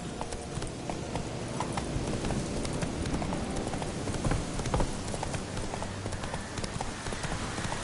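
Hooves of the horse Roach trot in the game The Witcher 3, a fast steady clip-clop close up over a faint ambient background, continuing without pause.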